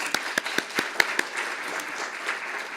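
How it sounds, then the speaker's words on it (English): Brief, sparse clapping from an audience thanking a panel at a youth council event, a handful of separate claps, moderately faint, fading into quiet room tone. "give a round of applause for our panelists"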